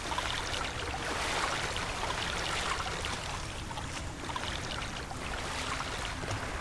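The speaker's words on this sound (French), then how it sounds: "Ouais, c'est la cascade, ouais." A waterfall in the game The Isle Evrima rushes as a steady, broadband wash of falling water, constant and moderately loud with no breaks.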